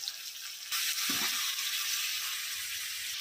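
Ingredients hitting a hot pan to fry, with a sudden loud sizzle bursting in and holding steady and close, a brief stirring scrape under it.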